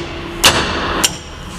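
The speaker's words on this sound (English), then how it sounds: "find a hammer, and you'll knock this lock out of the wedge" A hammer knocks the lock out of the wedge on a 5/8 cable adjustment for a Trout River shuttle floor trailer, producing two sharp metallic strikes about half a second apart, close and loud over a quiet background.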